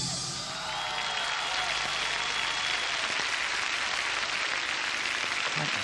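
An audience applauds at the 1994 European Amateur Latin dance championship, with dense, steady clapping and scattered cheers that swell and hold throughout.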